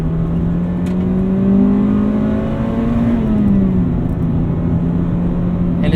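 A 1995 Acura Integra GSR accelerates out of a corner, its engine note rising steadily in a smooth climbing drone, dipping briefly as a gear changes, then pulling on, heard close from inside.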